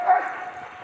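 Sled dogs during a dog sledding outing give a sharp, close yelp that trails into a thin, fading whine, all within under a second.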